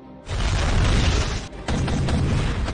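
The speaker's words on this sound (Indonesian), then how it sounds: "Caesar juga meledakkan tower musuh dengan senjata andalannya." In an action film, an enemy tower is blown up with a loud, sustained roaring explosion, followed by a brief dip and then a second rumbling blast, close and heavy.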